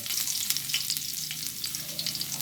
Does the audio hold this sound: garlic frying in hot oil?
yes